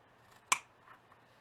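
Scissors make a single sharp, close snip through leather for a gift bag, followed by quiet.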